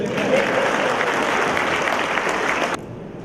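An audience at a student federation seminar in Buriram, Thailand, gives a dense burst of clapping that fills the room and then cuts off abruptly near the end.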